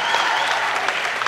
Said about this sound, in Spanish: Todo bien, un aplauso para Manuel y para Nasli.